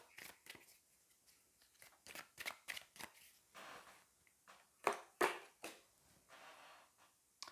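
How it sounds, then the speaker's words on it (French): Tarot cards are shuffled and handled with soft, uneven papery flicks and riffles, close and quiet, with a couple of sharper snaps near the end and no talking. "je vais prendre une ou deux cartes supplémentaires par rapport à cette carte"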